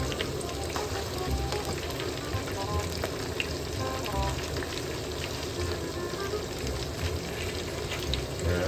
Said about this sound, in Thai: เราทอดไปเรื่อยครับ